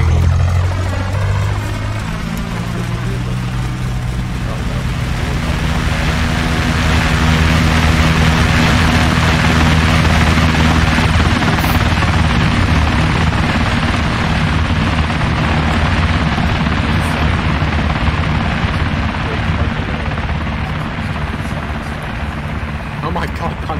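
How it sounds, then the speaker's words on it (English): Helicopters in a video game with a September 11th tribute theme, a loud throbbing rotor drone rising and sustained throughout, with low engine rumble and several people talking over it. "I was looking at the helicopters."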